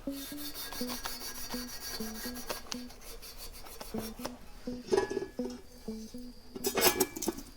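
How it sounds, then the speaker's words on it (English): Scotch-Brite pad scrubbing old gasket residue off metal on an SR20DET turbo in an S13, heard as repeated rhythmic rasping strokes near and fairly quiet, with a few metallic clinks and louder scuffs toward the end. "So I'm gonna take this Scotch-Brite, get the residue from that off."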